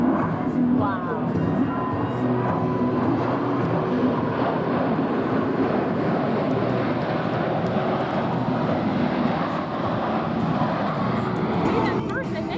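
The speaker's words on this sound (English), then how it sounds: "That plane. It's a Thunderbird." Thunderbird jet planes pass overhead at an airshow, a loud, sustained broadband roar filling the whole stretch without letup, with people talking faintly underneath.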